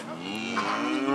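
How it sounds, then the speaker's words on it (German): A cow on a farm lets out one long, close, steady moo that fills the whole short clip. "Glückliche Kühe in artgerechter Haltung."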